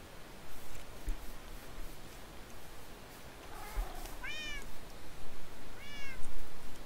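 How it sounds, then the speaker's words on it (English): A cat meows twice in the foreground, two short rising-falling calls a second or so apart, over faint rustling room noise with no talk. "Cats everywhere."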